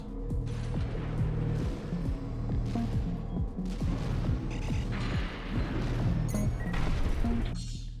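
Weapon fire from the video game Armored Core V comes as a rapid series of heavy booming shots and crashes over a low mechanical hum. The volley continues without pause, close and loud throughout.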